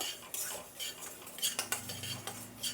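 Coriander seeds are dry roasted in a pan without oil, a spatula scraping and clinking against the metal in short, uneven strokes, close and quiet.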